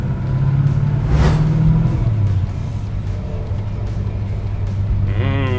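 A 1965 Chevrolet Malibu SS on the road, heard from inside the cabin as a steady low engine rumble and road noise, with a faint rise in revs near the end.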